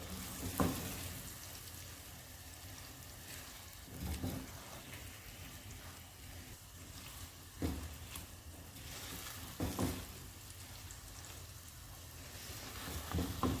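Okra and egg stirred and fried together in a pan, a steady soft sizzle with periodic scraping strokes of the spoon, no voices.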